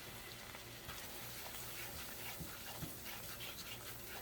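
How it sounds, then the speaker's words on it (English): Flour cooking in about three tablespoons of melted butter for a small roux in a pan, a steady soft sizzle and crackle running continuously and fairly close throughout. "You just want to cook that flour taste off of it."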